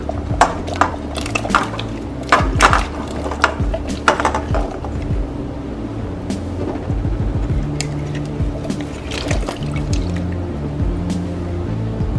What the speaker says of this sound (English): Now I will take it to the sink for a wash.